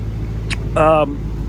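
A restored barn-find car idles with a low, steady engine hum and no ticking or knocking, while a voice briefly talks over it.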